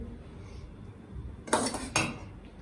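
Spoon scooping dahi yogurt into a serving bowl for banana raita, two quick close clinks of metal against the dish over quiet room tone.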